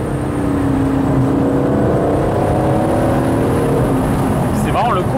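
An Aston Martin Vantage Roadster drives at steady speed with a continuous engine drone and rising revs, a shift audible near the end, while people talk inside the car.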